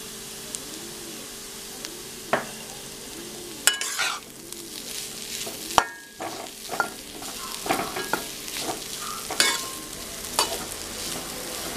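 Elephant yam pieces fry in oil in a pan. A steady close sizzle runs throughout, broken by irregular spatula scrapes and knocks as the pieces are stirred.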